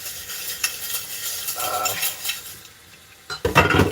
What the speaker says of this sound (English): Try to rinse the dishes.